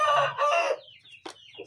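Chickens nearby give a short, loud crowing call followed by a pair of sharper clucks, brief and distinct with no talk.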